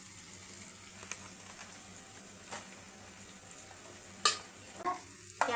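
Potato and capsicum masala curry is stirred in a pan, with soft scraping and a low, steady sizzle, plus a few sharper clinks near the end.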